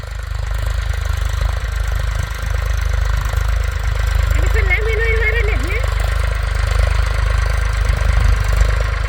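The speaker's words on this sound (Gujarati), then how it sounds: "જીપીએસ સિસ્ટમથી બગડાટી બોલતું ટ્રેક્ટર આવે" A GPS-guided tractor engine runs steadily in a field during winter crop sowing, a loud continuous low rumble with a brief higher whine partway through.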